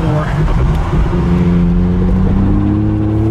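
A Nissan Skyline R32 GTR with HKS cams pulls away from a lopey idle, its engine rising in a steady, loud drone from inside the cabin while people talk over it.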